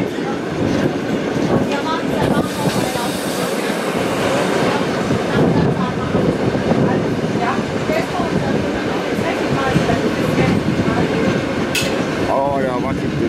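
The Sauschwänzlebahn heritage train rolls through the Wutach valley with steady rumbling and clickety-clack from the carriage, heard from on board while people talk.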